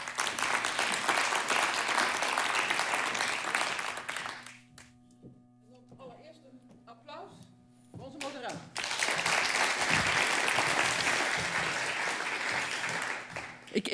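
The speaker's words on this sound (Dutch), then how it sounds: "Nog een applaus graag." A symposium audience marking fifty years of the WRR applauds loudly, then the clapping drops away for a few seconds of quieter sound before a second loud, sustained wave of applause, with speech present.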